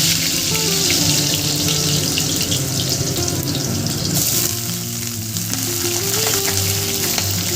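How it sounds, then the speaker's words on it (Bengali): Potatoes fry in hot mustard oil in a pan, giving a loud, steady sizzle and crackle that lasts the whole time with no talking. "সবার প্রথম আলুগুলো ভাজা করে নেব।"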